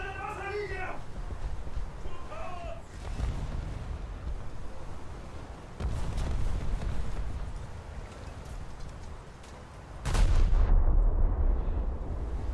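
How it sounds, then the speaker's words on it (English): Shells detonate on an enemy battleship's rear turret in a naval battle video game, with heavy booming artillery blasts arriving in several bursts, the loudest near the end, while a player talks over the early part. "There we go, shallow detonation of his rear turret"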